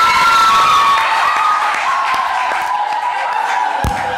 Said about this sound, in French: Est-ce que vous pouvez les applaudir à nouveau,